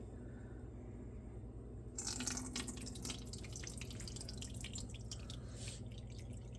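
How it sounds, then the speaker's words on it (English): Mulberry juice is poured through cheesecloth in a strainer, a steady trickling and dripping that starts abruptly and continues under a constant low background hum. "here is the juice, the 4 cups, and we're just going to pour it through here"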